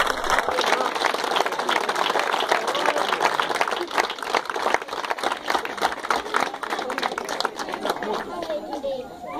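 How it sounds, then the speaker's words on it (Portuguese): A crowd claps loudly and steadily, many hands at once, with voices chattering and calling out underneath throughout. "Eu acho que Jesus merece uma salva de palmas pela vida do bispo."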